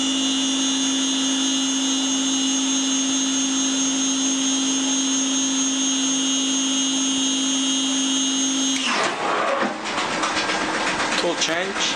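Brother TC-22 machining center running with a steady high whine and hum, then a burst of clattering, rattling mechanical noise near the end as the tool change happens, loud and close.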